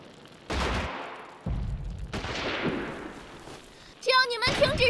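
Gunfire in a war film battle against Japanese troops, with several loud bursts and booms separated by short gaps, followed by chaotic shouting voices near the end.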